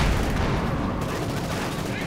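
Gunfire in the strategy video game Company of Heroes 2, including an MG42 machine gun, heard as a dense, continuous roar of battle with steady rattling bursts.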